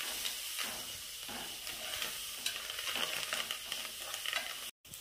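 Curry leaves sizzle and crackle in hot oil with ginger and garlic in a pan while being stirred, a continuous close frying hiss with small pops and scraping, quiet and without talk.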